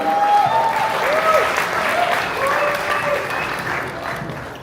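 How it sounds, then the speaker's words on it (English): Wedding reception guests applauding the bride and groom, loud close clapping with whoops and cheers riding over it, easing slightly toward the end. "Big round of applause for our bride and groom."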